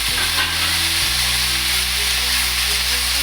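Water poured into a hot frying pan of fish head curry (muri ghonto) sets off a steady, loud sizzle and bubbling hiss that fills the whole stretch, with a low cooking hum underneath and no talking.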